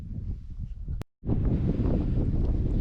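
Strong wind buffets the microphone in loud, roaring gusts on the Dartmoor hilltop of Cut Hill, broken by a brief dropout before the blustering resumes.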